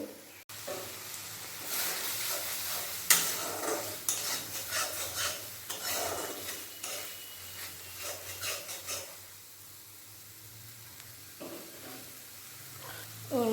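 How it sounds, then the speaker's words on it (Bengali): Spice paste is stirred and fried with splashes of water in a pan for an egg curry, giving a scraping, sizzling rasp in irregular bursts that ease into a softer, quieter sizzle near the end. "জল দিয়ে দিয়ে মশলাটা ভালোভাবে কষিয়ে নেব"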